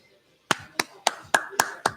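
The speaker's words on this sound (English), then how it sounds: "Golf clap" Six separate, evenly spaced handclaps at a sports bar live show, a slow, polite golf clap that stands alone, with a short silent gap before it begins.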